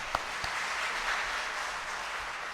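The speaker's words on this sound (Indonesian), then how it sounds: "Terima kasih, beri tepuk tangan." Applause from a church congregation during a harvest festival service, a steady wash of clapping from a crowd at moderate distance, with a couple of sharper nearby claps.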